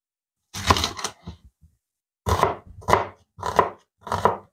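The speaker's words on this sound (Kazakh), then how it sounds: "Мүмкіндігінше сақтап тураймыз пиязымызды" A knife chops onion on a cutting board: a short burst of quick, sharp, close taps, a pause, then several more clustered bursts of chopping, with no talk.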